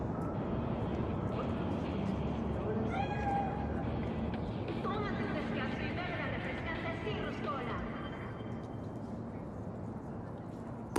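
A cat spirit in the video game Cyberpunk 2077 meows several times, thin wavering cries layered over a constant noisy background with some murmuring voices.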